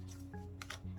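Oracle cards from The Wild Unknown Animal Spirit deck being shuffled by hand, a soft, brief riffle of card edges over low background hum, quiet and close.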